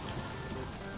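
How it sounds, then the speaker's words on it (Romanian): Heavy rain falling in The Forest video game, a dense steady hiss of rain close and loud for a brief moment, no voices. "Doamne, cum plouă!"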